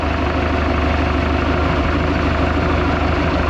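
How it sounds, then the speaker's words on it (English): A 1976 Mercruiser 120 hp inboard boat engine in a Mark Twain boat, idling after a tune-up, a steady, even, close low rumble that holds unchanged throughout with no voices. "This engine is as quiet as any engine should be."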